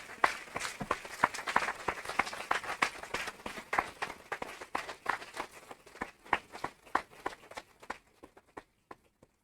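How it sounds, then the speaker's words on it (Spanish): A book-talk audience gives a lively round of applause, dense and rhythmic at first, then thinning into scattered individual claps that trail off to silence near the end. "lo que procede es despedirla con un fortísimo aplauso"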